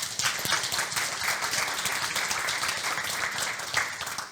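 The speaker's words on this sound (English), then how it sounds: "A round of applause for Dennie." An audience at a conference stage claps for speaker Dennie, a steady, dense round of applause held at an even level from start to finish, with no talk over it.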